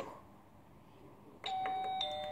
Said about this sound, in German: Die Klingel funktioniert auch.